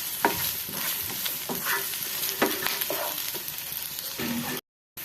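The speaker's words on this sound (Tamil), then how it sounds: "இப்போ நம்ம வெங்காயம் நல்லா ஃப்ரை பண்ணி எடுத்துக்கலாம்." Chopped onions fry in hot oil in a pan for crab curry, a constant close sizzle broken by repeated scraping stir strokes, with no voices before a sudden cut at the end.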